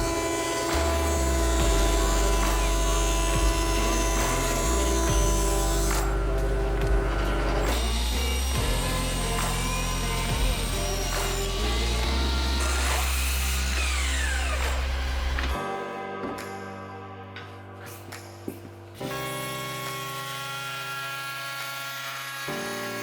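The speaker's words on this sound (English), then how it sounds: "Bunch of boring sanding." A power sander drones loudly and continuously on wooden drink coasters, its pitch shifting as it works, with a steady machine hum throughout and lighter grinding toward the end.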